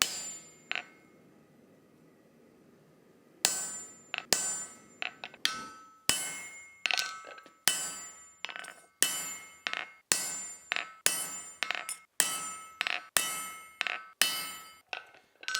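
Sharp metallic ball peen hammer taps on soft metal, a single strike then a steady run of evenly spaced clangs after a quiet pause, close and ringing.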